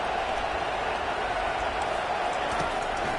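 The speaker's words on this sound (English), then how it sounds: "Listen to this crowd noise. This stadium is vibrating." A large stadium crowd in a college football video game roars continuously, a dense, loud, steady wash of cheering noise with no pauses.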